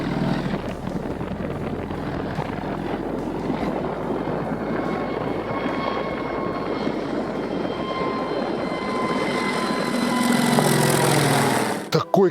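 A Kamov Ka-26 coaxial-rotor helicopter in flight gives a steady, loud engine whine and rotor drone that builds toward the end before cutting off abruptly, heard from on board.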